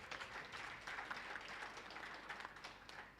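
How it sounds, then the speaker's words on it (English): A summit audience applauds panelists, producing faint, distant, continuous clapping that holds steady for a few seconds. "So please give them a round of applause"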